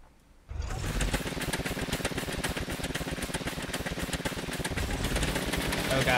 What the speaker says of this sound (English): Hold on, I gotta turn the engines on.